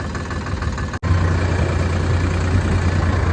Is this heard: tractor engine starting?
yes